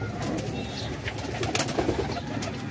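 Racing pigeons at a pigeon club coo softly amid steady outdoor background noise, a few low rolling calls rising slightly in the middle, fairly near and not loud.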